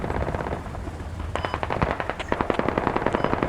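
Rapid bursts of heavy gunfire from a tank in the military shooter game Squad, loud and close, with sharp repeated reports over a rumbling battlefield background and no talking.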